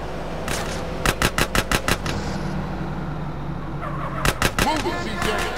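Rapid video-game gunfire in GTA San Andreas, aimed at a car's wheels: a quick burst of about seven evenly spaced shots, a pause, then a second shorter burst, over a steady engine and road rumble.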